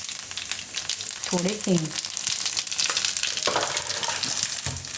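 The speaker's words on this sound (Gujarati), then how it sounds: "અને તેલ આપણું ગરમ થઈ ગયું છે તો એમાં થોડીક રાઈ નાખશું આપણે અને જીરું" Mustard seeds and cumin sizzle and crackle steadily in hot oil in a Gujarati home kitchen, a continuous bright frying hiss with a voice speaking briefly over it.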